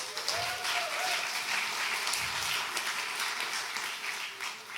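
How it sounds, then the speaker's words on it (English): Steady audience applause in a security conference hall, a continuous wash of many hands clapping at moderate distance with no break across the whole span. "Please give a warm round of applause for those people"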